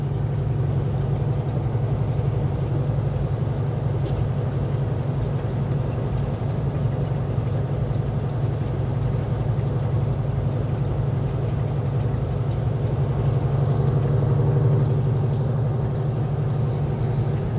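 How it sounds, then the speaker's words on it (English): Water truck engine running steadily while spreading water on a dirt road to keep dust down, a continuous low, heavy rumble with no pauses or talk. "Water truck spreading water, keeping the dust down."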